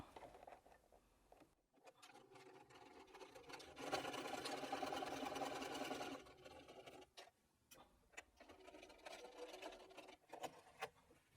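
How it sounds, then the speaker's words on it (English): Sewing machine running a short reverse stitch to finish a seam on a Christmas table decoration, a steady close mechanical whir lasting a couple of seconds between quieter clicks and handling sounds. "I'm just going to do a little reverse stitch there just to finish it off"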